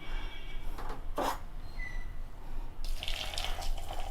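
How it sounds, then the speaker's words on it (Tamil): Hot water poured over small soya chunks (meal maker) in a home kitchen, a steady close splashing pour with a brief louder gush, no talk. "நல்லா சுட சுட தண்ணி ஊற்றுறேன்."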